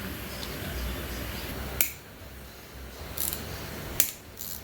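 A bolt cracks loose during the teardown of a 2008 Honda 400EX engine, giving a sharp snap near the start followed by another crisp crack later against a quiet shop background.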